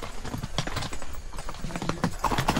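Horse hooves clip-clop steadily and close by on a trail ride, a rhythmic clatter of repeated hoof strikes with some rustle and movement noise around them.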